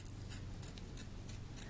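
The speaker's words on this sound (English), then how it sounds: "The double curved scissors just make it a lot easier" Double curved scissors trim around machine-stitched fabric applique, giving a steady series of soft, close snips roughly every third of a second over a low background hum.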